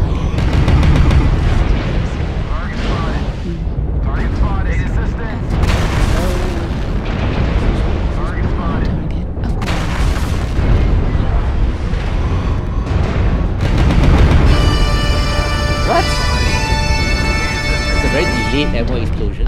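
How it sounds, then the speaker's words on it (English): Ammunition explodes in MechWarrior Online while a Marauder IIC fights. Deep booms and blasts roll through a dense, continuous battle din, with tonal game beeps and alerts layered on top and a player talking throughout. "Ammo explosion."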